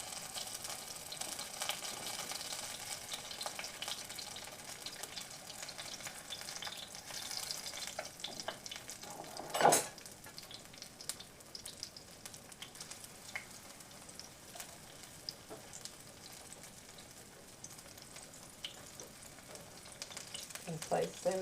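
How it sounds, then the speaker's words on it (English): Spoonfuls of fritter batter frying in hot oil, a soft continuous sizzle heard close but quiet, with one brief clatter partway through. "just take a heaping spoonful and drop it in the oil"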